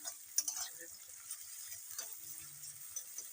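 Onion and green chillies fry in a pan for yogurt chicken, giving a faint, quiet sizzle broken by a few soft stirring scrapes and clicks.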